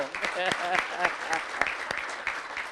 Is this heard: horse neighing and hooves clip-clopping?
no